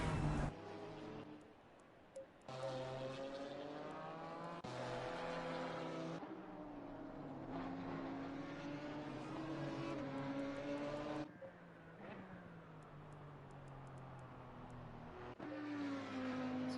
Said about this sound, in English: See one of the cars heading out of the pits now